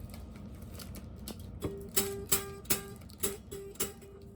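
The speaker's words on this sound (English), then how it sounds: "we realized that the action was too low, which made the guitar sound like this." A homemade guitar with its string action set too low, the strings catching on the neck, gives a run of close, plucked notes with a buzzy, rattling attack that grow louder and more regular partway through.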